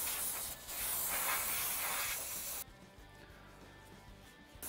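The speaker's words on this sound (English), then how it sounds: "use some contact cleaner and a rag and clean the cover" An aerosol can of contact cleaner sprays onto an ATV's oil filter cover, a loud close hiss lasting about two and a half seconds, followed by quieter handling noise.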